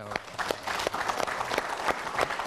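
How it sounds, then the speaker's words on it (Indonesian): Steady applause from a group, dense clapping that carries on evenly with a few sharper claps standing out. "Jadi kita perlu berikan tepuk tangan dong."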